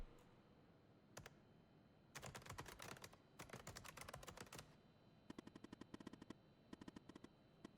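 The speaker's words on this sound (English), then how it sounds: "The typing sound is so satisfying." Crisp computer keyboard typing from the game The Operator comes in rapid bursts separated by short pauses, each run a dense flurry of close, clicky keystrokes against a quiet background.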